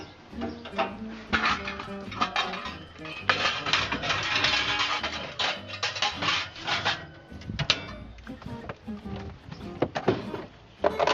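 A cutlery drawer in a Freedom caravan kitchen is handled, with clinks of utensils, rattling and a few thunks of the drawer, near and moderately loud, broken by short pauses.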